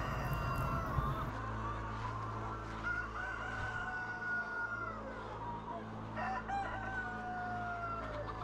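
Free-range chickens on a hillside, with a rooster crowing close by in long, rising calls over a steady low hum and soft clucking.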